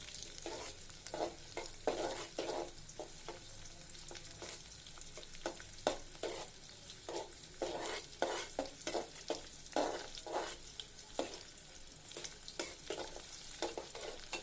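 Green chili, onion and garlic fry in a pan, giving a steady sizzle broken by repeated scraping strokes of a spatula, moderately close with no talking.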